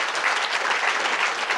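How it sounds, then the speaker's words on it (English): Audience applause fills a room at a corporate partners' day keynote: steady, dense clapping from many hands, close and loud, holding evenly through the whole stretch with no voices over it. "I hope anyone in the room who's been watching as well would like to thank with some applause"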